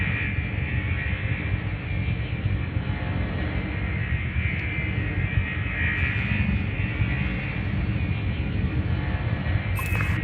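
Spaceship engine thrust in the Elite Dangerous video game: a loud, continuous, dense roar that holds steady throughout, with a faint short blip near the end.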